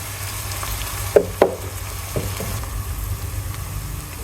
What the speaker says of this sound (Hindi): अब मैं इसमें अदरक लहसुन का पेस्ट डाल दूँगी और उसको अच्छी तरह से भूनूंगी